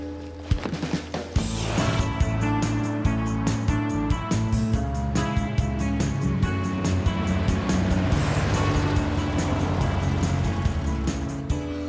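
A car pulls away and drives off, with a steady, loud engine rumble and road noise that builds after a brief start and holds throughout, under a music-like backdrop and no clear talk.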